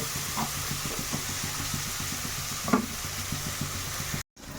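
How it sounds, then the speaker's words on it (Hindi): Onions frying in a pan for pointed gourd curry, a steady sizzling hiss with faint rhythmic stirring taps, continuous and close, ending in a brief cut to silence. "ଏବେ ତ କିଛି ସମୟ ଟିକେ ଭାଜିବାକୁ ଛାଡ଼ିଦେବା।"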